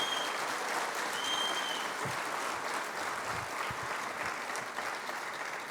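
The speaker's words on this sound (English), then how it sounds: "Let's give them all a big round of applause." An alumni association event audience gives a big round of applause, steady and dense clapping that holds at an even level throughout, with a faint whistle or two above it.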